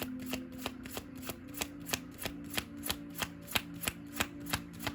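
A deck of cards shuffled over and over in a steady, even rhythm, close and crisp, with a sharp riffle repeating roughly every half second and no voices.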